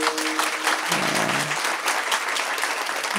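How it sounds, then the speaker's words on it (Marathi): Audience clapping at a comedy kirtan by Vaibhav Maharaj Gadhave in a village gathering, a dense steady burst of applause sustained for a few seconds. "टाळी जर वाजवली तर खेडला आवाज गेला पाहिजे."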